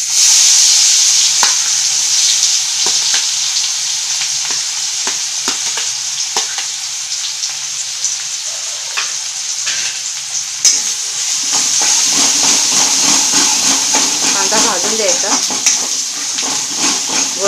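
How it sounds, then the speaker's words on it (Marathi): Onion with a pinch of turmeric drops into hot oil for an egg masala curry, setting off a loud, sustained hissing sizzle with scattered stirring scrapes; a voice is briefly heard toward the end. "कांदा टाकून घेऊया"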